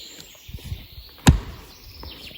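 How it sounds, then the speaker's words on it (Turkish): Birds chirp and sing faintly in the open air of the Artvin mountains, and one sharp knock of wood being struck breaks through midway. "kuş sesleri arasında doğada"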